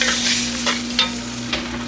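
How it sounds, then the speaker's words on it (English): Red bell pepper, green pepper, celery and onions sizzle steadily in a pot for gumbo, a close, constant frying hiss with a few soft stirring scrapes and no voices. "we're gonna slide in the rest of the veggies, which is red bell pepper, green, and some celery"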